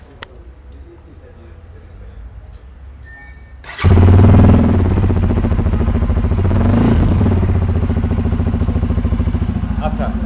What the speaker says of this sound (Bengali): দেন স্টার্ট দেন, বাইকের সাউন্ডটাই একটু শোনাই।